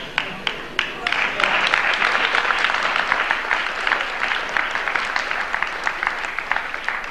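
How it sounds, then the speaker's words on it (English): A room full of people at a school fall sports awards event bursts into steady applause after a few early claps, the clapping loud and sustained right to the end. "They do deserve a round of applause"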